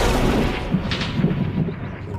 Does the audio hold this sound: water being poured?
no